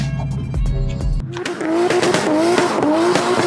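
Racing cars scream past with loud, sharply rising and falling tire squeals and revving engines, the squeals repeating in quick bursts close by after a brief low rumble at the start.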